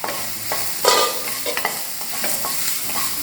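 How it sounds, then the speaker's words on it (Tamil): Onion and ginger garlic paste sauté in a pan for paruppu urundai kuzhambu, giving a close, continuous sizzle with repeated scraping stirs of a utensil against the pan and no speech. "இதை நல்லா வதங்க விடலாம்."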